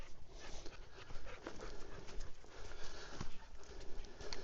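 An off-leash dog pants quickly on a lakeside loop trail in a state park, a faint, rapid rhythmic breathing up close with soft outdoor rustle and no speech.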